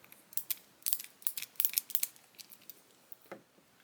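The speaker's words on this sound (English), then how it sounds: "And now you have a ratcheting screwdriver." A Shelton Ratchet Action Socketool ratcheting screwdriver clicks through a quick burst of sharp ratchet ticks up close, then a few sparser clicks as it slows, with no voices.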